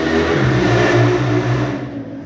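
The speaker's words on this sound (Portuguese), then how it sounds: "desculpa pela moto que passou aí na rua aí" A motorcycle passes along a street nearby, its engine a steady droning rumble that swells loud and then gradually fades as it moves away.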